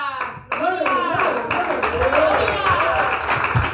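A church congregation claps in a steady, rhythmic patter of many hands, with voices, including children's, mixed throughout.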